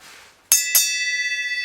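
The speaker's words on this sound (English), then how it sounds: "So I'm going to go ahead and ring the bell." Two quick metallic strikes on a small bell ring out close and clear, the second following about a quarter second after the first, leaving a bright sustained ringing tone that shimmers and slowly decays, after a faint murmur of background noise.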